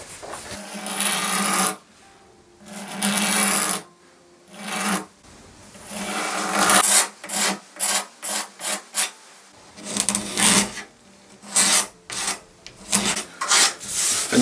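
Rasping, scraping strokes of finish being stripped from a wooden reproduction tanker desk, down to bare wood, come close and loud in uneven bursts that grow shorter and choppier toward the end.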